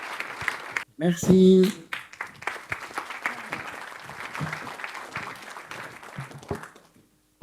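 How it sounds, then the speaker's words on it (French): Audience applause at an awards ceremony for green building trophies, a burst of clapping running through most of the clip while someone speaks briefly over it, fading out near the end. "On vous applaudit, on fait la photo."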